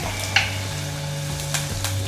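Curry powder roasting in a pan at a home cooking lesson in Ella, Sri Lanka, giving a steady close sizzle over a low hum, with a few light scraping stirs of spoons against the pan.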